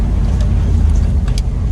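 A 1987 Ford F350 ramp truck on its first test drive, its engine droning loud and steady close by with a rough, uneven edge, while a few brief clicks come through over the road noise.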